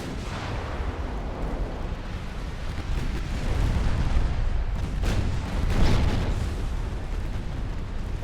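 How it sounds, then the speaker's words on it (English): Heavy naval gunfire from warship main batteries in Ultimate Admiral: Dreadnoughts, a dense rolling rumble with several deep blasts swelling midway, continuous and loud. "I want your main guns firing on that."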